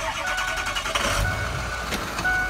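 A 2006 Ford F550 diesel crane service truck starts up with a cranking, rising rumble that settles into a steady running engine, close and fairly loud, with faint intermittent tones over it and no talking.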